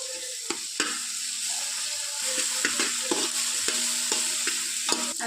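Ginger garlic paste frying in oil with green chilies for chicken biryani, a bright constant sizzle punctuated by repeated scraping strokes and light metal taps of a spoon against the pan, close and alone.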